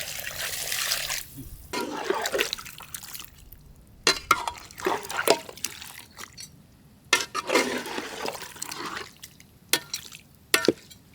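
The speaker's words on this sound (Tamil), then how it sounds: "கறி வேவைக்கு தேவையான தண்ணி சேர்த்து விடுங்கக்கா." Water poured into a pot of peacock duck curry cooking village style outdoors, splashing and trickling in several short bursts separated by quiet gaps, close and moderately loud.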